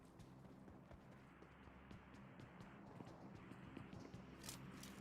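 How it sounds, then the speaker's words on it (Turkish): Footsteps in the mobile battle-royale game PUBG Mobile, a quiet, steady run of soft rhythmic steps approaching from nearby, with a few sharper ticks toward the end. "Ayak sesi."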